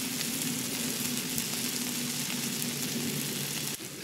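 Food sizzling in a pan on a camping stove, a steady even frying hiss that runs unbroken and fairly close before dropping off abruptly at the end, no talking.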